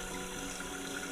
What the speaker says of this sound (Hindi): तो इस स्टेप्स पे जो पानी बहता है ना, उसके लिए प्रियंका यहाँ तक आई है।